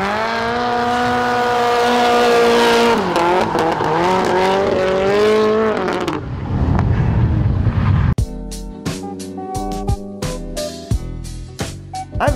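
Nissan S14 Kouki drift car at a drift day event, a loud revving engine with harmonic whine and tire squeal through a slide, then sharp bursts and crackles as it passes; no talking.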